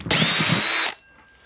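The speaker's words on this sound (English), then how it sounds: "I'm going to take a hole saw, a 3-inch hole saw, that's what this is here, and I'm going to drill a hole right here in the center of our bucket" A 3-inch hole saw on a power drill cuts through the center of a plastic bucket in a small shop, one loud, steady whine lasting under a second before stopping abruptly into quiet.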